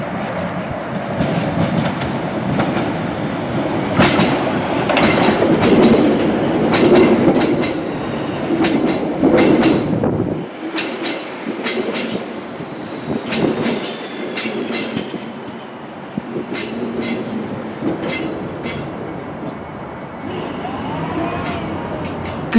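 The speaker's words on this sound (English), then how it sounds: "The train now approaching platform 1 is the Bakerloo line, service to Elephant and Castle." A London Underground Bakerloo line train pulls into a station platform, with a loud rolling rumble and rattling wheel clatter that eases after the first half into lighter, intermittent clicks and squeaks.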